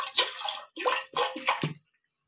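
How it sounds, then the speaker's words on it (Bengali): Water is poured into a pot to heat for steaming momos, in four short splashing bursts with brief pauses, close and clear, the pitch rising slightly as the pot fills, then silence. "এখন আমি মোমো সিদ্ধ করতে বসাবো, তাই জন্য এখন জল দিচ্ছি, গরম করবো।"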